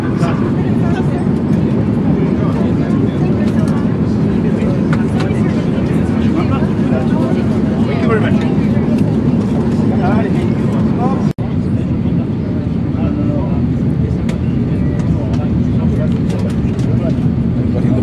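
Steady loud airliner cabin roar while the plane flies inbound toward Toulouse for landing, a broad constant drone throughout with one brief dip near the end; speech is detected under the noise.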